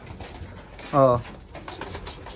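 A racing pigeon in a loft gives one short, throaty coo near the middle. Faint background noise and voices are heard around it.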